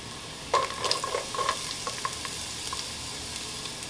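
Ginger, carrot, onions and garlic sizzle in a pot for Jamaican fish tea soup, a steady frying hiss with a few clinks and stirring knocks near the start.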